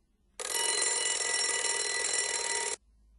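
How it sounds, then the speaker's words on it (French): An alarm clock ringing under a glass bell jar with air inside, a steady bright metallic ring lasting about two seconds, starting and stopping abruptly, heard alone. "Plaçons maintenant notre réveil sous une cloche en verre."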